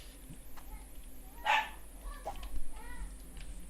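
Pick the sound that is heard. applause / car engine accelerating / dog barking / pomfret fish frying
dog barking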